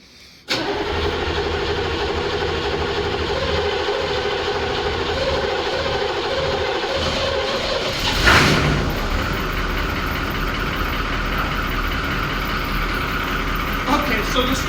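A Buick diesel engine cranks and fires on a cold start, then settles into a loud, steady clattering idle close by, with a brief rev partway through.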